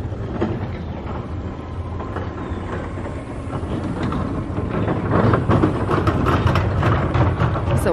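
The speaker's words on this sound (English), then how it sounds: "Oh, there's a monorail. I turn around and here it comes. Going fast." Monorail train passing at Disney's Polynesian Resort, a steady rolling rumble that grows louder and rattles as it nears and speeds by.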